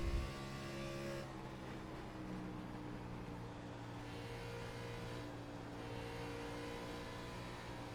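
Onboard race car engine from an iRacing event at Texas Motor Speedway, a steady loud drone with sustained harmonic tones holding pitch through the run, no talking over it.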